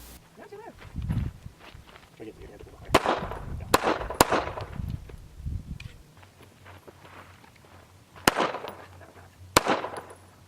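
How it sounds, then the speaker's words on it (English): A Remington RM380 micro carry pistol fires at an outdoor shooting range in Arizona: five sharp, loud cracks in two spaced groups, with people talking between and around the shots. "I got to shoot the Remington RM380, which is a micro carry pistol"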